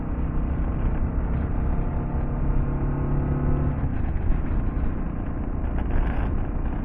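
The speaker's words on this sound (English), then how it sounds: "One more pass, just getting the motor warmed up." A Kawasaki KLR650 adventure motorcycle fitted with an Outback Motortek skid plate runs as it warms up, a loud, steady close-up engine drone with a slight shift in tone partway through.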